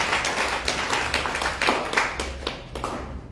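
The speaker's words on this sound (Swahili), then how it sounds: "Tupigie Yesu makofi kidogo." A church congregation at a Sunday service claps for Jesus, a dense mass of handclaps sustained throughout with some rhythmic pulses, fairly loud and close, no talking over it.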